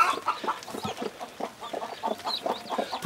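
Broody hens cluck softly in a coop nest shared by two hens with four newly hatched chicks, giving a close run of short, quick clucks with faint higher peeps.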